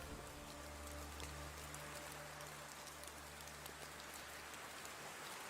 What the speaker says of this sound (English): little droplets of rain